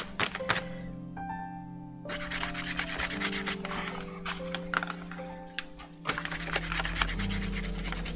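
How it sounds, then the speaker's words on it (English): Fingers rubbing leftover paint onto old packaging cardboard make a steady close rubbing and scuffing texture throughout, while sustained musical tones play underneath. "You can go in and rub it in with your fingers."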